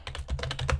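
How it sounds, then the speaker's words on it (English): Rapid keystrokes on a computer keyboard, a short close burst of about eight clicks in quick succession, alone without speech. "good typing"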